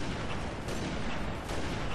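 Gunfire aimed at a Jackal in Halo Reach comes as two dense, booming shots, one about halfway through and one near the end, over a loud, noisy game backdrop.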